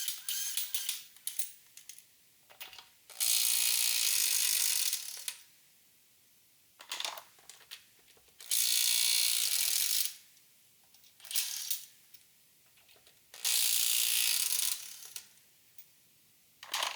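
A Makita subcompact cordless impact wrench loosening car wheel nuts, including a locking wheel nut, firing in several loud sustained hammering bursts of a few seconds each, separated by quieter clicks and handling noises.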